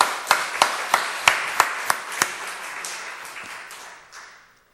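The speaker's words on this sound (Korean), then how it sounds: "자, 우리 발표한 두 분에게 다 뜨겁게 박수를 보내드리겠습니다." A church seminar audience gives two presenters a round of applause: about nine sharp, separate claps in an uneven rhythm that thins out and fades, close and moderately loud, with no talking.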